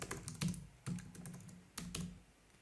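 A code comment is typed on a computer keyboard in short clusters of crisp, close key clicks, with small gaps between bursts and no talking.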